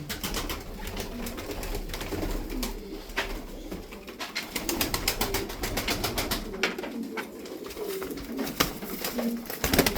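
Malatya play pigeons coo repeatedly at close range, soft throaty calls recurring through steady background clatter and rustling.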